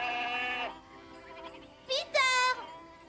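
Goats being brought home from pasture in a manga-style animated cartoon bleat in two short, loud calls near the end, after a voiced stretch at the start.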